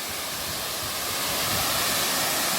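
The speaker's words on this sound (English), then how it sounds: "This is my first waterfall, my first real waterfall in New Hampshire that I've seen since I moved here." A waterfall on Mountain Brook Trail in Andover, New Hampshire gives a steady, broad rushing roar of falling water, continuous and fairly close, with no voices.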